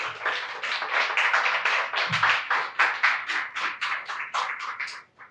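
Church congregation clapping in praise, a steady run of sharp, fairly near handclaps over about five seconds that fades out at the end.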